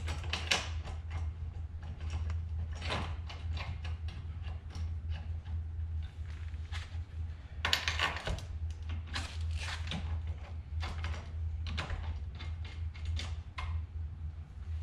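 A CSM Performance hub plate is worked onto a four-hole wheel hub in a garage, giving scraping metal clicks and creaks over a steady low hum, close up and continuous.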